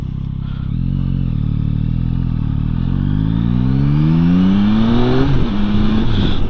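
Yamaha Tracer 9 motorcycle engine pulling hard while riding, pitch climbing steadily through the revs before a quick gear change drops it, a loud continuous drone close to the rider with wind noise and no talk.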